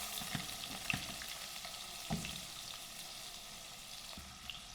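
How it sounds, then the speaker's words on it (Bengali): Potatoes fry in oil in a large wok, a soft, even sizzle with faint hiss and a few light stirring knocks and clinks, no voices. "দিয়ে এই সবজিগুলো এর মধ্যে ফ্রাই করে নেব। প্রথমে ভেজে নেব আলুগুলো।"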